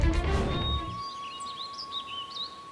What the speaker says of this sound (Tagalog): Tanging huni ng ibon at ihip ng hangin lang ang maririnig.